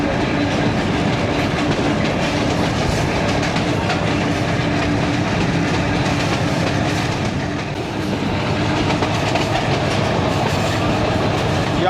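Seen from inside the 125UP Lasani Express passenger train between Lahore and Baddomalhi, Pakistan, the train runs on its rails with a constant loud rumble and clickety-clack of the carriages, and no talking.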